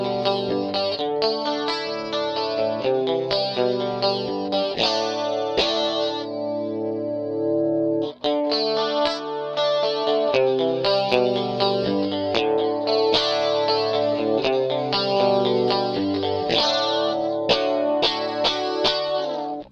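Electric guitar played through an MXR Rockman X100 pedal in Clean 1 mode with cabinet simulation, a focused, chorus-rich clean tone; a busy run of plucked notes and chords rings out loud and continuous with no talking.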